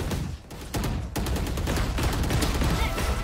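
Shotgun fire in the tactical shooter Valorant rings out in a dense flurry of loud, close bursts after a brief lull, the blasts running together into a continuous barrage with little pause.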